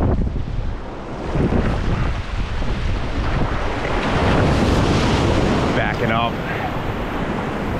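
Surf rushes and crashes continuously against a rocky Rhode Island shoreline while shore fishing for striped bass, with steady wind buffeting the microphone and the roar swelling midway.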